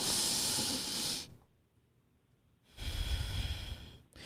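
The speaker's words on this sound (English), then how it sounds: "Another thing is breathing exercises." Breathing exercise: a loud, airy breath in or out, then a pause of near silence, then another strong, rushing breath close to the microphone.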